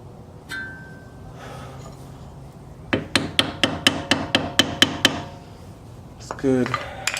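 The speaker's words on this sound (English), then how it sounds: "I'm just gonna grab a hammer" A hammer strikes metal about ten times in a quick, steady series of sharp ringing clanks while installing coilovers on a Volkswagen Touareg, with a few scrapes and handling noises before and after.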